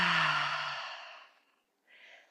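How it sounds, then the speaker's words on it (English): During a gentle morning yoga practice, a long, audible exhale flows out softly and fades away, followed after a short pause by a quieter breath. "Take a slow breath in. And let it go."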